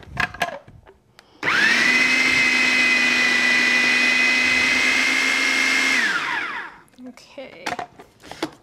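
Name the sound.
blender blending spinach artichoke quiche base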